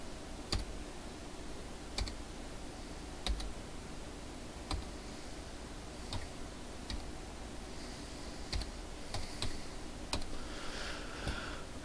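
Sparse, separate keystrokes tap out a Wi-Fi password on a computer keyboard, spaced irregular clicks over a quiet room hiss, a little quicker near the end.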